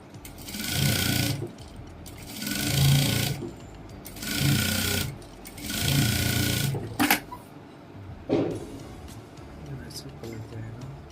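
Sewing machine stitching blouse fabric for a spaghetti-strap padded blouse, running in four steady bursts of a couple of seconds each, close and loud, with brief handling knocks between runs.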